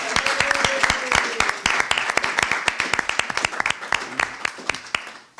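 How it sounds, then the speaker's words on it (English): Audience at a community conversation event on drug addiction applauding, a loud, close burst of many individual hand claps over a crowd wash, fading toward the end, with some talk mixed in. "Let's give Marco Fabretti another round of applause."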